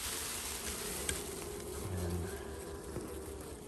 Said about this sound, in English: So many bees inside